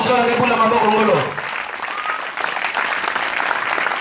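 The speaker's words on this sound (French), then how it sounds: "J'aimerais que tu acclames très très fort." A church congregation claps and cheers loudly at a French-speaking service, a dense wash of applause with voices on top that thins after a second into scattered clapping that carries on steadily.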